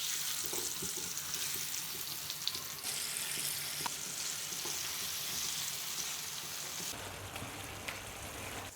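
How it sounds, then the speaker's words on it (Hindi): Marinated liver (kaleji) fries on a hot tawa with a steady, hissing sizzle and occasional crackles and clinks, the tone shifting slightly near the end. "अब हमने जो कलेजी मैरिनेट करके रखी थी वो हम तवे के ऊपर डाल देंगे।"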